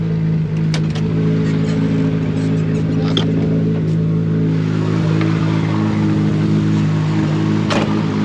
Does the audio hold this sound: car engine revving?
yes